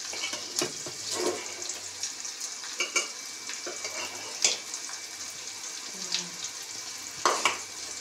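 Food sizzles and crackles in a pan with steady frying noise, broken by occasional clinks and stirring sounds.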